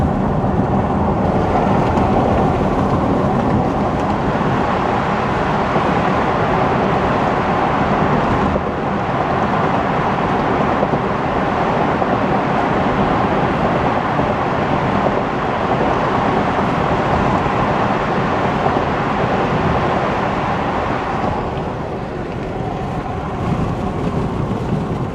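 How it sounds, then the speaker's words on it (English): Inside a moving Tesla Model Y RWD with the front windows partly open, loud, steady road and wind roar fills the cabin, a continuous rushing drone with slight swells and no talking. "So for the ones that love having their windows open, this is how loud the car is."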